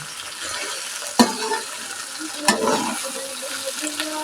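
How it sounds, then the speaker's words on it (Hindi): Okra (bhindi) frying in a pan for a masala bhindi dish, a soft steady sizzle with two sharp clanks of a utensil against the pan and faint stirring scrapes. "मैं फ्राई कर रही हूँ, इसको अच्छे से फ्राई हो जाए"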